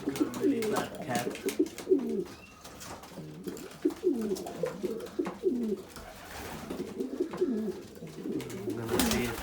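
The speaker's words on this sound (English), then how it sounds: "this bird got hit with the falcon with him today" An injured pigeon or dove, hurt in a falcon attack, coos repeatedly in low soft calls, mixed with nearby talk and handling noise.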